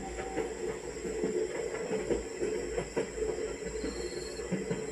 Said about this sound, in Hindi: और अभी हमारा ट्रेन इंटर कर रहा है पटना जंक्शन